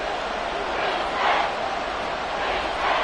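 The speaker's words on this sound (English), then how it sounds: "This crowd turning up the decibel level." A football stadium crowd cheering loudly on a third and long, a dense, steady roar that swells in waves and stays loud throughout, with no clear voices over it.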